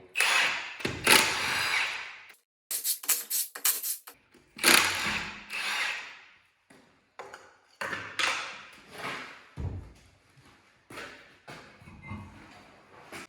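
The left front wheel comes off a 2010 Dodge Grand Caravan during a CV shaft replacement, with loud, close bursts of a power tool whirring on and off in short runs between brief silences.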